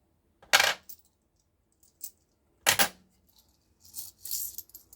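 Coins handled and dropped during a UK cash-stuffing session, giving several sharp, close metallic clinks in small bursts separated by short silences, with no talking.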